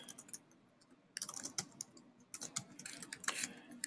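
Quick bursts of typing on a computer keyboard, close crisp key clicks in two short runs separated by a brief pause, no talking.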